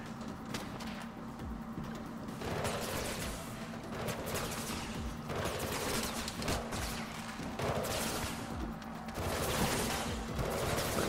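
Sustained gunfire in the video game Mirror's Edge Catalyst, with rapid bursts of shots repeating over a steady low background hum and no talking.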